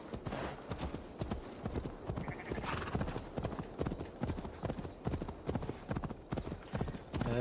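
Dense, rapid hoofbeats from a horse galloping in Assassin's Creed Valhalla, running continuously and loudly throughout, with a brief whinny early on and speech mixed in.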